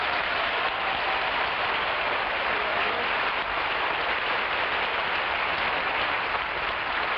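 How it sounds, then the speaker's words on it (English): Studio audience applause from a 1961 live television variety show, a dense, steady wash of clapping that fills the whole stretch without pause. "I can only say that applause is from the heart, as you can hear"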